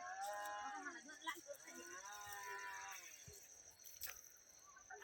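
A cow moos loudly and at length near a tomato field, one drawn-out low call followed by a shorter second one, with faint rustling around it.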